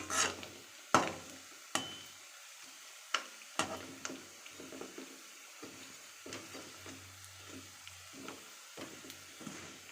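Salted meat, uppu kari, frying in oil, quiet soft sizzling broken by irregular sharp pops and ticks, close and faint with no talking.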